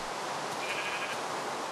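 Sheep bleating in Minecraft: a short, thin bleat set against a steady hiss like rain, fairly faint and without talk.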